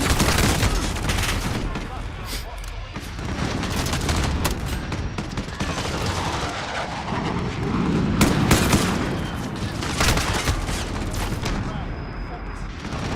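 Rapid bursts of AK-47 fire in a hectic multiplayer shooter video game, loud and near, with dense, overlapping shots running through the whole stretch beneath continuous talking.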